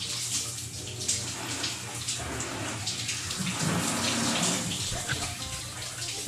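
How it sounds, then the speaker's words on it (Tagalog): Shower water runs steadily in a bathroom in Saudi Arabia during a hot day, a continuous broadband hiss of spray and splashing that stays loud throughout, with a faint low hum underneath. "Yan mga bro, mag-shower tayo."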